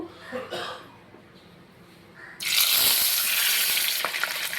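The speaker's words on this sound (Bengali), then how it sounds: "এখানে আমি কড়াই তেল দিয়ে দিয়েছি, তেল গরম হয়ে গিয়েছে। এবার আমি মাছগুলো ভেজে নিব।" Pabda fish drop into hot oil in a wok and burst into a loud, close, continuous sizzle midway, after a quieter stretch of faint kitchen handling noises.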